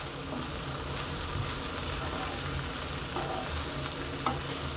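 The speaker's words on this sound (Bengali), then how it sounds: "আমি আরও ভালো করে কিছুক্ষণ ভেজে নেব, যাতে সিমগুলা আর আলুগুলা ঝরঝরা হয়ে যায়" Green beans and potatoes frying in a pan, a steady dense sizzle and crackle running throughout at close range with no talking.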